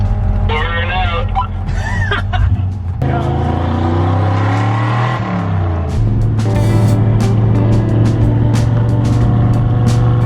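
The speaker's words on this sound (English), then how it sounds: "Burn out." A car does a burnout at a Los Angeles car gathering: a loud, sustained engine roar that surges and steadies across the whole stretch, with people talking over it.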